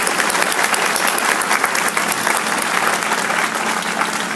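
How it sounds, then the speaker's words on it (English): Loud, sustained applause from an audience at a building's grand opening celebration, many hands clapping steadily and close by. "Give them a round of applause, if I may."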